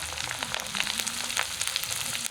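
Ground spice paste frying in a pan for a carp fish curry, a steady dense sizzle running throughout with small crackling bursts, close and fairly loud, no voices.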